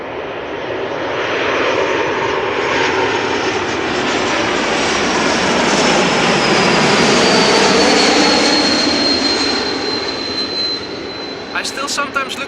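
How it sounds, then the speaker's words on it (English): KLM Embraer E195-E2 jet arriving at Amsterdam Schiphol up close, a loud broad engine roar swelling and holding with a descending whine on top, then easing off near the end. "E2 Embraer 195 arriving from Nuremberg"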